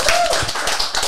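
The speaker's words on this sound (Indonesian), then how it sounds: "Tepuk tangan dong." A few people clap their hands in a small podcast studio, a short burst of quick, close claps lasting about a second.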